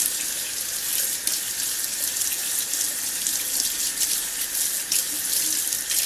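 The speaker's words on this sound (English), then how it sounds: "I will just run some lukewarm water" Steady rushing stream of lukewarm water from a tap, running continuously and close by, with no talking.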